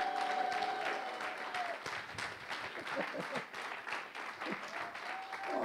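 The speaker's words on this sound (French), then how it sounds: "Acclame-le plus fort." A church congregation applauds and cheers in praise of God, sustained clapping and crowd noise filling the room while a voice speaks over it.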